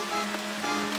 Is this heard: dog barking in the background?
no